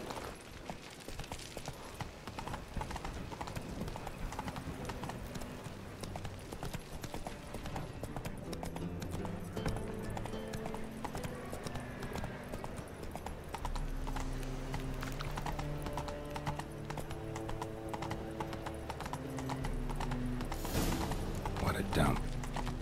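Geralt's horse Roach in The Witcher 3 with steady, rhythmic clip-clopping hooves and creaking tack, close and continuous under soft tonal background sounds.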